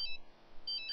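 A phone ringing in The Sims 3, heard as short high electronic ring tones at the start and again near the end of a quiet second, with faint low background noise between.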